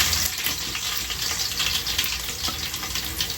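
Crushed garlic fries in hot oil with fenugreek and mustard seeds, a steady, close, bright sizzle that holds without pause.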